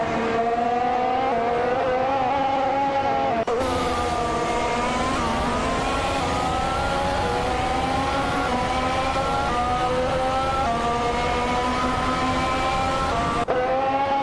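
F1 2014 race cars, including a Mercedes W5 Hybrid, scream around Circuit Bugatti in a loud, continuous high-revving engine drone with rising and falling pitch as gears change, steady throughout with no talk.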